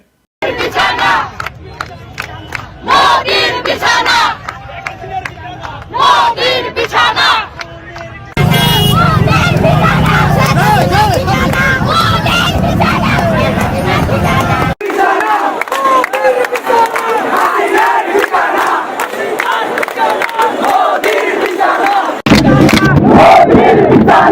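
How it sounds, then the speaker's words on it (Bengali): A large crowd of revolutionary students chants political slogans in loud, rhythmic bursts, with voices shouting together and a busy street-protest din of cheering and babble running throughout. "এটা করে দেখান না কি কি স্লোগান দিছিল আমার ক্ষুদ্র ভ্রাতার ভগিনীরা, বিপ্লবী ছাত্র জনতা"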